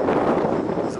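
Strong wind on a Croatian seaside cape near Sukošan buffets the microphone in a loud, rough burst of low rumbling noise, brief and close.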